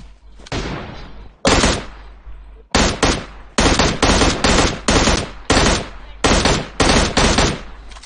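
Loud, close gunfire in PUBG Mobile, an opening burst followed by a string of short, evenly spaced rapid-fire bursts, each cut off by brief silence.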